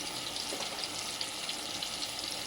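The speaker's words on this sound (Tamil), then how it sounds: "இதே மாதிரி எல்லாத்தையும் திருப்பி விட்டுடுங்க அந்த பக்கம் நல்லா வெந்துருச்சு பாருங்கள்" Soya balls frying in hot oil as they are turned over, a dense continuous sizzle and bubbling that stays close and even throughout with no voices.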